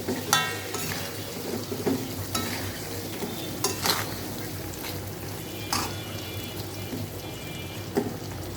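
Potatoes and pointed gourd fry together in a pan for an egg dolma, a low steady sizzle with occasional stirring scrapes and clinks, close and moderate in level, no talking.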